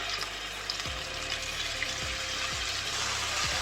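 Chicken pieces frying in hot oil in a pan, giving a steady, close sizzle and hiss throughout, with a few faint low knocks under it.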